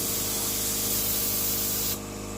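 A paint spray gun nozzle hisses steadily while spraying paint on a Mazda RX4, a close, continuous airy rush that cuts off sharply near the end.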